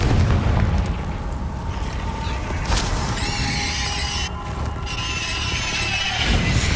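A Confringo fire spell explodes in the Hogwarts Legacy video game, a loud booming burst followed by sustained rumbling, crackling effects and a high whining tone, with combat noise throughout.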